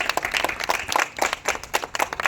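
An audience applauds steadily and energetically throughout, with dense, continuous clapping close by.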